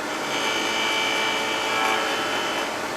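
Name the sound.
gouge cutting wood owl on fast lathe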